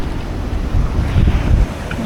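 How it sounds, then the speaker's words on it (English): Ocean waves break on a rocky shoreline, a loud, continuous rush of surf with wind buffeting the microphone and a low surge swelling midway. "You just walk around, watch the waves"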